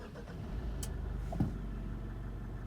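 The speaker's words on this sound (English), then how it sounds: "to start the vehicle, just put your foot in the brake and push the button to start" 2020 Mitsubishi Montero Sport (Pajero Sport) engine starting by push button, a low, muffled rumble settling into a steady idle, with a brief click partway through.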